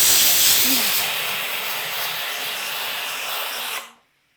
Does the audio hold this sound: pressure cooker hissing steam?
yes